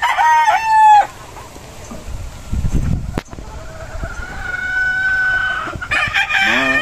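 Roosters on a breeding farm crow loudly and close, one crow at the start and more toward the end, with clucking and scattered background noise between.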